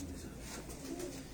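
Pigeons bred for competition cooing softly in a short burst, low murmuring calls close by with faint background noise.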